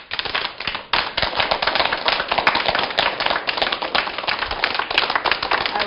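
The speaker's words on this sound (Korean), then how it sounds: "큰 박수로 맞이해 주세요." A large church audience applauds to welcome Pastor Kim Myung-ho onto the stage at a lecture, dense, loud, steady clapping that fills the room throughout with no talking.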